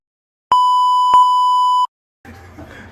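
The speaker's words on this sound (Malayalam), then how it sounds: "അത് ബീപ്പ് ഇടണം കേട്ടോ" A single loud censor beep, a steady pure tone lasting just over a second, cuts sharply in and out, followed by a short stretch of faint talk.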